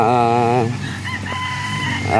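Pet chickens with a rooster crowing loudly nearby, one long wavering crow followed by clucking from the flock.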